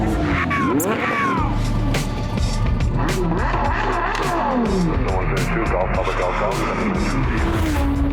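Race car sliding on the Pineville hillclimb course in Eastern Kentucky, loud engine revving with rising and falling pitch sweeps and tire noise, while a voice talks over it.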